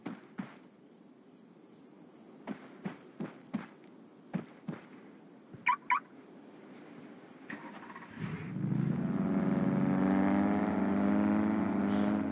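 A Volkswagen Golf GTI engine fires up after a run of sharp clicks and knocks, then settles into a steady, full-bodied idle hum that carries through to the end, close and fairly loud.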